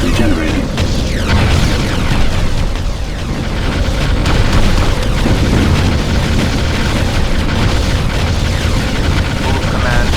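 A power station blown up in the Ground Control strategy game, heard as a dense, loud, continuous rumble of explosions and battle noise that stays heavy for the whole stretch.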